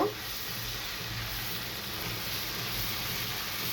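Chopped onions with a little cardamom fry in a pan for a prawn malai curry, giving a steady, even sizzle throughout with no talking.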